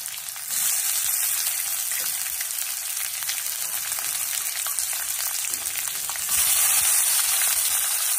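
Onion and tomato sizzling hard in hot oil for girmit masala, a loud, steady crackling hiss that surges when more goes into the pan, with no voices over it.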